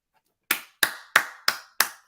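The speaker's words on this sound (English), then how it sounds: "Did you just clap for yourself?" A man clapping for himself, five sharp, close hand claps in an even rhythm after a brief silence, each with a short decay.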